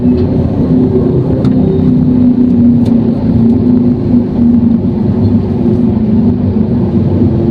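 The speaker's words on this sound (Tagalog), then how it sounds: "mabilis naman umusad ng sasakyan. Hindi naman siya heavy traffic, moderate lang." A delivery vehicle driving through moderate city traffic, a steady low engine and road rumble from inside the cabin, loud and continuous with a couple of faint clicks and no talk.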